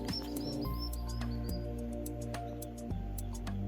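A white-bibbed antbird, a ground-dwelling bird of Brazilian forest, gives a series of thin, high whistled notes repeated at a steady pace over a low, constant background hum, moderately distant and with no voices.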